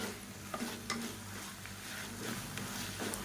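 Mint leaves are sautéed lightly in a pan for a chutney served with idli and dosa, giving a soft, steady sizzle with occasional light scraping and stirring clicks, fairly quiet throughout.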